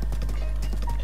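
Rhythmic clip-clop of horse hooves trotting in Zelda: Breath of the Wild, loud and close over a steady low game hum with no talk.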